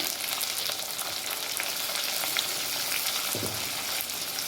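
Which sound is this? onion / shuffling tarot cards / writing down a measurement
onion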